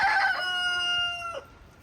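A hen in a coop with nesting boxes lets out a drawn-out, squawking cackle that fades after about a second and a half, close and clear, with no talking.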